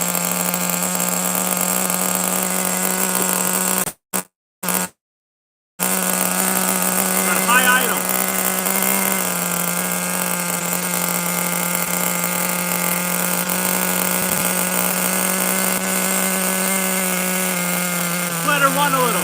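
The nitro engine of a Nitro Razor XT RC car with an aluminum chassis runs at a steady, loud, buzzing idle. It cuts out briefly near the four-to-six-second mark and then picks up again. Voices speak over the drone.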